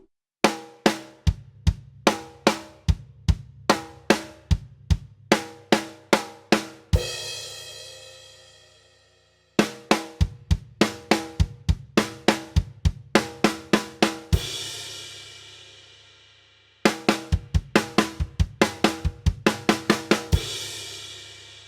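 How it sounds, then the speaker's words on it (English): Snare drum and bass drum play a sixteenth-note sticking pattern as a drum fill, with crisp, rapid hits that each end in a crash cymbal. The fill repeats three times with short gaps, played alone and fairly close. "we can break it down with just the snare drum and the bass drum"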